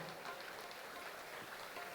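Steady applause from an audience as a singer comes onto the stage at a cultural program, a dense soft patter of clapping that holds evenly throughout, heard from some distance.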